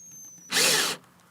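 A power drill whines loudly at full speed for about half a second, backing a screw out of a BBSHD e-bike mid-drive motor, with quieter workshop ambience before and after the burst.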